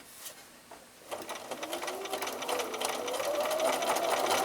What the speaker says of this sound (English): start sewing from there